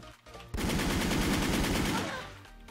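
Rapid automatic gunfire in the online shooter Wolfteam, a dense burst of shots lasting about a second and a half that then tapers off, loud and close, with faint game sounds around it.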